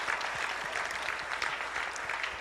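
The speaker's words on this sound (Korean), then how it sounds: "우리 빛과 사랑교회 박수 한번 해주시면 감사하겠습니다" A church congregation at a prayer meeting applauds for Light and Love Church, a dense, steady wash of many hands clapping together with no voices standing out.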